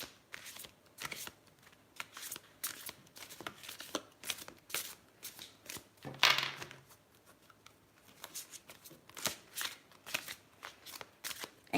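Tarot cards are shuffled during a live psychic reading: quick, close riffles and papery flicks come in repeated uneven bursts, including one sharper, brighter riffle midway.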